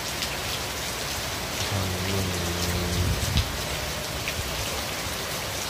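Steady rain falls at night, a dense even patter on surfaces that holds at the same level throughout, with a brief low hum partway through and no voices.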